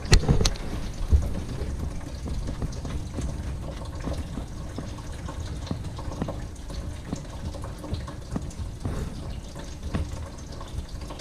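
Coolant draining from a 1988 Dodge Ram W250 makes a steady splashing, trickling pour into a container, close and continuous with occasional louder drips.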